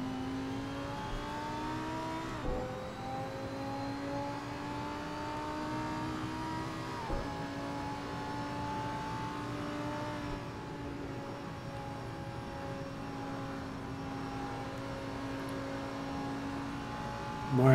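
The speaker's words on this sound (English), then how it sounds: "Glorious sounding Audi V10" A Lamborghini's Audi V10 engine lapping the Nordschleife in a racing video game, heard from on board as a sustained, smooth, high wail that climbs through the gears, with brief drops at shifts near three and seven seconds.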